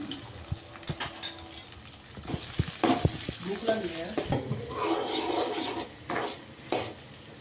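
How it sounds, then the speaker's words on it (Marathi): Chopped onion dropped into hot oil with curry leaves sizzles loudly in a pan, broken by scraping stirs and a few knocks of the spatula, close up with no talking. "त्यामध्ये लगेच आपण कांदा ॲड केलेला आहे"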